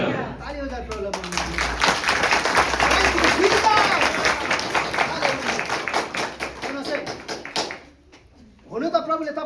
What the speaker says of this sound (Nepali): ताली बजाएर प्रभुलाई